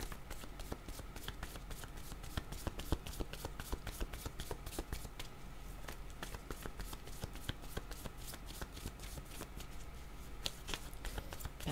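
Someone shuffles a deck of cards by hand, with quick, crisp riffling taps repeating steadily at close range and a faint murmur of background voice.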